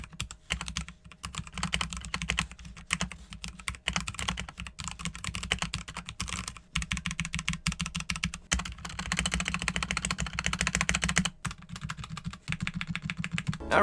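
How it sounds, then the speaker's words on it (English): Rapid, steady typing on a Royal Kludge RK61 60% keyboard with foam inside, soft muted clacks in quick bursts and a few brief pauses, close up and alone. "this is how the keyboard's gonna sound once you got foam inside it"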